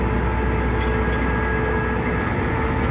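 Interior rumble of the Riga-Vilnius-Kyiv special passenger train in motion: a loud, continuous low roar of wheels on rail with steady mechanical hum, and a couple of brief rattling clicks from the carriage, no voices.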